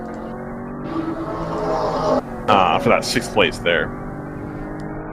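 Endurance race cars run on the Mid-Ohio track during a WRL race, engines droning and surging in the background beneath a commentator talking.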